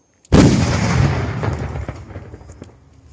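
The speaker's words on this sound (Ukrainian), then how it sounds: "проводимо знищення вибухонебезпечного пристрою" A single sharp, loud blast from a controlled detonation of an RKG-3 grenade in Nikopol, Ukraine bursts out after brief silence, then rumbles and echoes, fading over a few seconds with scattered debris-like crackles.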